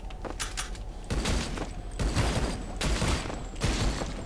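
Bursts of gunfire from the Rise of the Triad first-person shooter, loud rapid volleys in several clusters with brief gaps between them and no talking.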